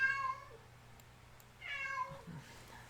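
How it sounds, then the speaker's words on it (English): A house cat meows loudly twice, close by, each call a drawn-out yowl with a quiet pause between them. "Kitty can be very loud when he's in a mood."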